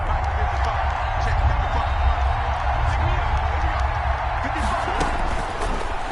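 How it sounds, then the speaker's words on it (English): A loud, dense stadium crowd roars steadily throughout a Madden 21 football video game as a big third down approaches, with a deep rumble and faint clapping. "the crowd getting into it as we come up on a big 3rd down"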